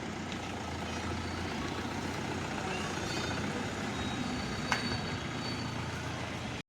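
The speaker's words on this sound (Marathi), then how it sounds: "ह्यांनी गाडी काढली आहे आता." A car is taken out and driven off at the start of a family trip to Tikona Farms, its engine giving a steady, even hum throughout without any talking.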